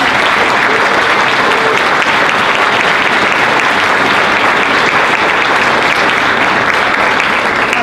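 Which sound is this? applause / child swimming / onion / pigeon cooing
applause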